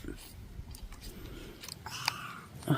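Someone bites into and chews food close to the mic, a soft run of crunchy, wet mastication with a couple of sharper bites near the end, while background voices murmur.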